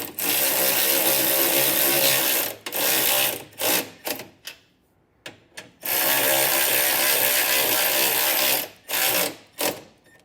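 A 1/2 inch ratchet tightens running board bolts on a vehicle, clicking in fast continuous runs broken by short pauses and brief bursts, loud and close with no talking.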